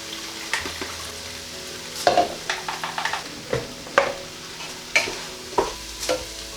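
Vegetables sautéing in a pan for vegan Mexican three-bean chilli, with a soft background sizzle and a series of sharp spoon stirs and scrapes against the pan, close and fairly loud, no talking.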